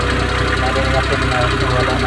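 A motor, apparently running after starting, gives a steady, close rumble with a knocking, vibrating character and no break, while someone talks over it.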